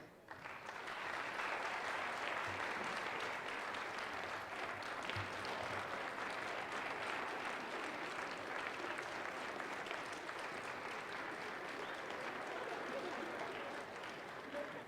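Sustained applause from a university graduation crowd honoring the graduates' supporters, a steady dense clapping wash that holds at an even level throughout, with faint voices mixed underneath.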